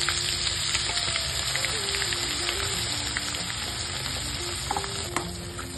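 Masala browning in a hot pan for paneer masala, giving a loud, steady sizzle and crackle throughout, with faint tonal sounds in the background.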